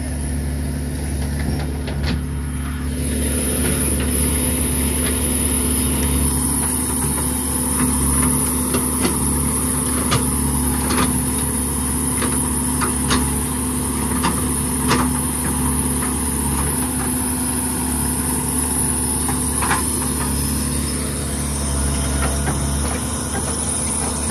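A motorbike engine idling in place on a village road under construction, a steady low drone that holds for the whole stretch, with insects chirping faintly around it.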